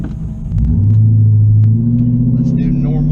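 A Chinavette car fitted with a new RPM transmission and TCI torque converter drives along, its loud, low engine rumble holding steady, then dropping in pitch as a gear shift comes through. The drone sounds close and fills the whole stretch.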